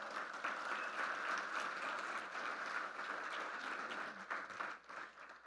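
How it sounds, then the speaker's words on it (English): Round of applause at a city event welcoming a new city manager, a steady, somewhat distant crowd clapping that thins and fades toward the end. "and that deserves a round of applause."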